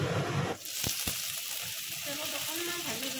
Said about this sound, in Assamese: অকণমান ভাজি লৈছোঁ পাচলিখিনি।